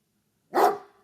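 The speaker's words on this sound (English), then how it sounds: "Here's an animal. Here's a dog." A single dog bark, one short sharp woof with a brief reverberant tail, sounding alone against silence.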